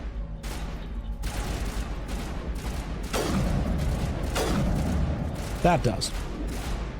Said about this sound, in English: We're just going sniper from now on. We're doing some sniping.